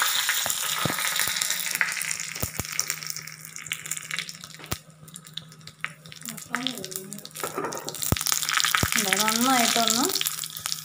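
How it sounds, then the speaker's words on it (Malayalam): Dried red chillies and mustard seeds crackle and sizzle in hot oil, a steady hiss with scattered sharp pops, while a voice talks over it in the second half. "4 വറ്റൽമുളക് എടുത്ത് വെച്ചിട്ടുണ്ട്. അത് ഈ തിളച്ച എണ്ണയിലേക്ക് ഇട്ട് കൊടുക്കുക."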